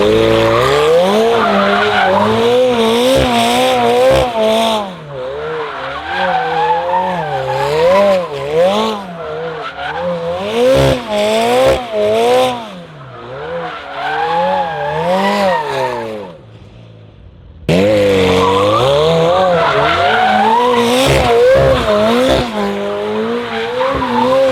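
A rebuilt McLaren strapped to a dyno does a tire burnout: a loud, sustained wavering squeal of spinning tires over the roaring engine, briefly dropping off before surging back at full intensity.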